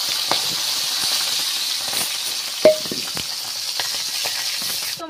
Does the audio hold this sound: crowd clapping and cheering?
no